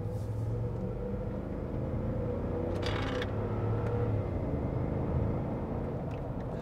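A supercharged 2010 Land Rover Range Rover Sport accelerates on a windy day, heard from inside the cabin as a steady, low, muffled rumble of engine and road noise, with a brief faint rattle partway through.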